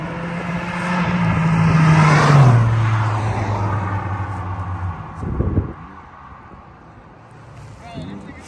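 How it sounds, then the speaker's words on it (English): A BMW M3 and an Audi in a roll race pass loudly with a rising and falling engine roar that builds, peaks and fades, followed by a brief whoosh and a fainter later pass, with people talking over it. "the M3 and the Audi is doing a roll"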